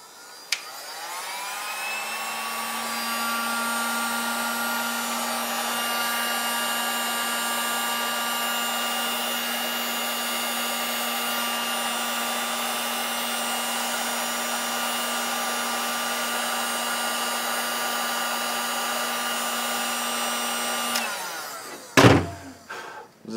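A heat gun blows steadily for about twenty seconds, shrinking 3-to-1 glue-lined heat shrink tubing during a dual pump top and D5 build. The blower keeps a constant whine and ends with a click and a brief clatter.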